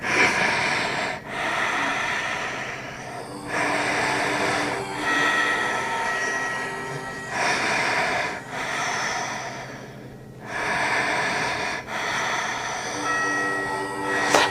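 Deep, audible breaths taken while holding the Virabhadrasana 1 yoga pose: slow, loud inhale-exhale cycles of about two seconds each, repeated in a steady rhythm close to the microphone with no talking.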